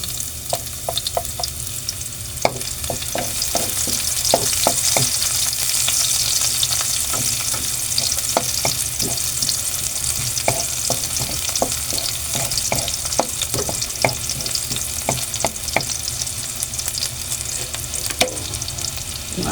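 Onion frying in a pan for sautéed cabbage with sardines, giving a steady loud sizzle throughout, with scattered clicks and scrapes of stirring close by.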